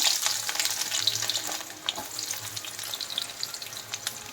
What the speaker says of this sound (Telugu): టమాటాలు కరివేపాకు ఇవన్నీ కలిపి వేయించుకున్నాం